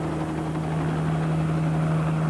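Helicopter flying overhead during a police search of open land and reservoirs, a steady droning rotor and engine hum with a strong low tone, continuous and fairly loud throughout with no talk.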